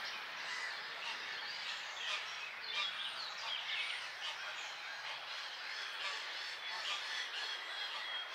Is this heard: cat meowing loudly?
no